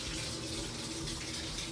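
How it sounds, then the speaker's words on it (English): Water leaks from a household plumbing pipe in a steady stream rather than drips, making a continuous, faint, close hiss and trickle with no talk. "It's not a little drip. It's a steady now stream."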